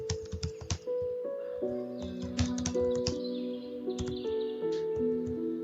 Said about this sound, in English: now let's begin typing